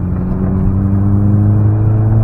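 A Volkswagen Golf, kept since 2003, pulls away with a steady low engine drone and hum that holds even and loud from the cabin throughout.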